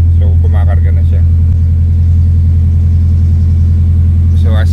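A Mitsubishi Lancer engine idles with a loud, close, steady low rumble, given a slight rev, while people talk briefly at the start and end.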